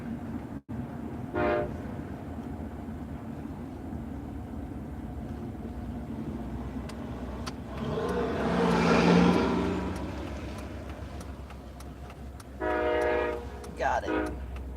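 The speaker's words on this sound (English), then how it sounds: "Lots of trains in Nebraska" A train passes in Nebraska with rumbling rail noise building to a peak mid-clip, and short horn-like tones sound near the end, all heard from inside a vehicle under a low steady hum.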